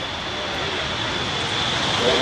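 A pair of De Havilland Vampire jets at an air show, heard as a steady, loud broadband engine roar that holds constant throughout, with a commentator talking over it.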